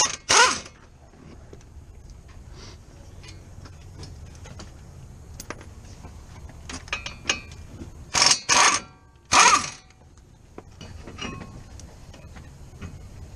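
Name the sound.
ratchet removing 18mm spindle nuts on a Ford Explorer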